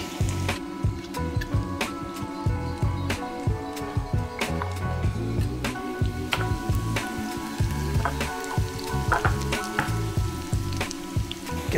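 Potatoes, onion and bacon fry in a pan for a German Bauernfrühstück, giving a constant close sizzle broken by frequent crackles, pops and clinks of a utensil against the pan, with no voices.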